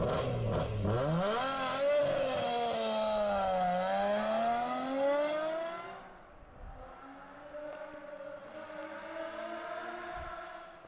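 Rally car at a Bulgarian mountain hill climb start, engine revving hard through rising and falling gear changes, loud and close, then fading into the distance as it pulls away up the course.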